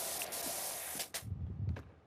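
A pressure washer sprays steadily in PowerWash Simulator 2, a loud broadband hiss that runs for about a second before cutting off, followed by quieter low thuds and shuffling movement.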